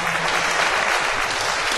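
A crowd at an outdoor Fourth of July Celebrate Freedom rally where Donald Trump speaks breaks into dense, loud, sustained applause and clapping that fills the whole moment.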